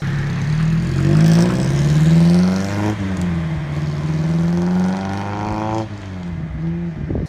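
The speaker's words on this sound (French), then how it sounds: "Et le moteur fait un bruit hyper sympa." A Lancia Fulvia with rally styling revs its engine, the mid-pitched note rising and falling through repeated throttle blips, loud and close with no talk over it.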